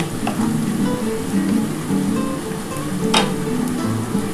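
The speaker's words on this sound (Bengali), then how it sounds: "এবার আমি কিন্তু বিটটা দিয়ে দিচ্ছি" Beetroot tipped into a pan of frying onion and garlic gives a steady broad sizzle, with a brief louder crackle flaring midway, and no talking.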